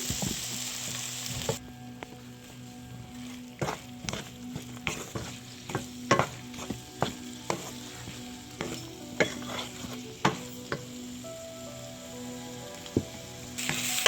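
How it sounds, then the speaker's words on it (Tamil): Brinjal curry in a pan on low flame is stirred, a soft continuous sizzle under regular clinks and scrapes of a spoon against the pan, heard close with no talking. "லோ ஃப்ளேமில் வச்சு நீங்கள் கிண்டினீங்கன்னா நல்லா டேஸ்டியாக வரும்."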